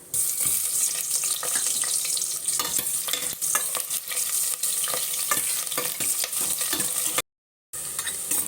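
Onions fry in oil with whole spices (cardamom, cinnamon, clove and star anise) for coconut milk rice, giving a continuous close sizzle with scraping stir strokes and a brief dropout near the end.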